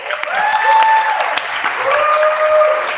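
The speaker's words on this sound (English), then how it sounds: "Let's give a rousing round of applause" Conference audience applauding steadily for about three seconds, a full room of clapping hands at even loudness with no talk over it.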